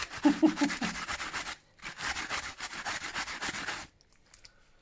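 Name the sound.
grating a pear on a grater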